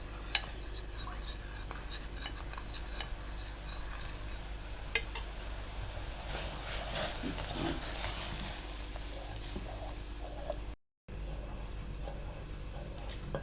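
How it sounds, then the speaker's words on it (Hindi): A spoon stirs thickening milk with custard in a pot, giving faint, continuous scraping and soft clinks against the metal with low simmering in the background, quiet and close. "इस दौरान आपने चम्मच चलाते रहना है।"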